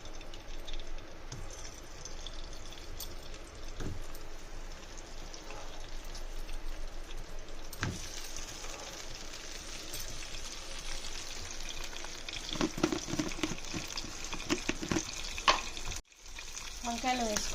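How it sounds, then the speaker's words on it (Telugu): Eggplants frying in hot groundnut oil in a pan, a steady sizzle with occasional stirring and scraping bursts, louder crackles toward the end, no talking. "ఆయిల్ కాగాక వంకాయల్ని ఫస్ట్ ఆయిల్లో వేసేసుకోండి."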